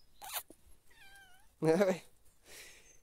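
A cat meows twice, a short call then a louder drawn-out one, close by in a quiet room.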